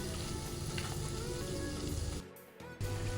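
Dried fish (shutki) fries in a pan, a thick, steady sizzle with low bubbling that briefly dips and quiets near the end before surging back, heard close with no talking.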